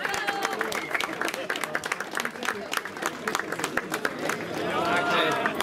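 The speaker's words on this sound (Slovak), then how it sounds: "Veľký potlesk vás poprosíme." A crowd at a running race awards ceremony by a water reservoir breaks into sustained applause, dense clapping that swells toward the end, with an announcer's voice heard over it early on.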